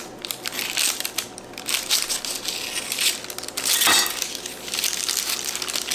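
A knife slicing a cooled Christmas treat into little squares, giving a close, steady crunching and scraping with a sharper crackle near the middle.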